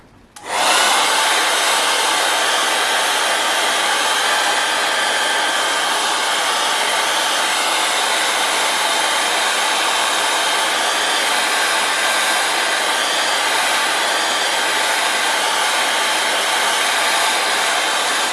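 A hair dryer switches on and blows steadily to dry a watercolor painting of a sailboat, a loud, constant whooshing roar held close to the microphone with no other sounds.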